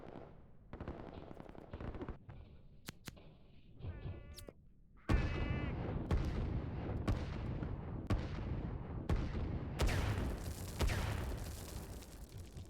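Artillery fire in the strategy game Line War: sharp, irregular shots crack out one by one at first, then the firing thickens into a steady, rapid barrage that keeps going to the end.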